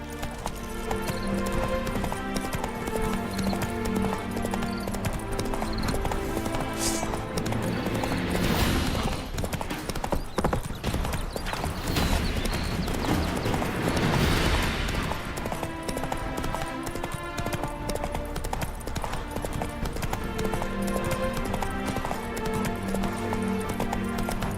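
Roach, a horse in The Witcher 3, gallops in a fast, steady clip-clop of hooves, loud and close throughout, with rushing wind and game ambience swelling midway.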